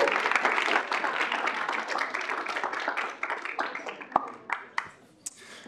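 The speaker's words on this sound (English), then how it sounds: "can we give our new senators a round of applause?" A crowd applauds new senators at a student government meeting, a dense burst of clapping that thins out into scattered individual claps and fades within about five seconds.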